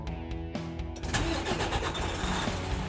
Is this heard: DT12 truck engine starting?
yes